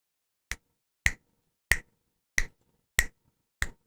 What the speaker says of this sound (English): So I'm going to go ahead and snap my fingers a few times.